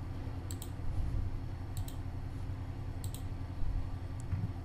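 A computer mouse double-clicks a zip file to extract it: three quick paired clicks, spaced about a second and a quarter apart, faint against a steady low hum.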